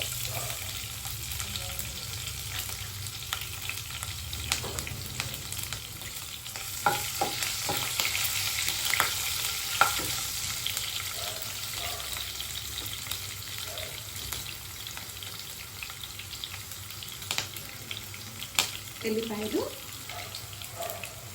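Curry leaves and green chillies frying in hot oil, a faint steady sizzle with occasional stirring clinks and scrapes at low volume throughout.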